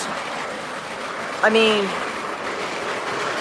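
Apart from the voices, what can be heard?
model train running on track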